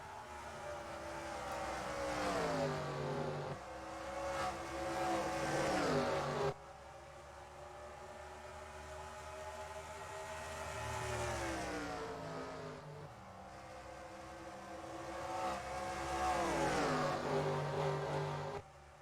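Race cars in NASCAR Racing 2003 at Rockingham roar continuously, engines revving and rising in pitch as they accelerate, with shifts and passes; the loud, steady engine noise fills the whole stretch with no talk.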